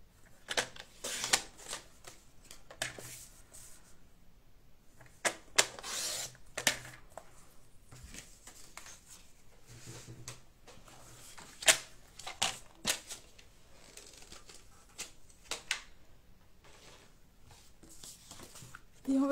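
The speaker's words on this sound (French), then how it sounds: "on va venir couper dans notre chute de papier noir" Scissors cutting a rectangle from scrap black paper for a craft kit, with soft intermittent snips and paper rustling, quiet and close, with no talking.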